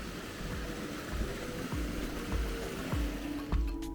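Clear water flows in the Bats Stream at the Palenque Maya ruins in southern Mexico, a steady, soft rushing wash with a few low thumps and no talking.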